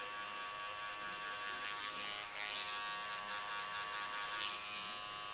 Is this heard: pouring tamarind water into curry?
no